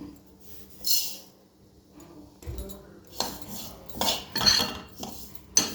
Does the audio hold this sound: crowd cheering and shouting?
no